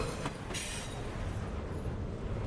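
A train rolls steadily in the background of a narrated audiobook, giving a continuous low rumble with faint rail clatter and no speech heard.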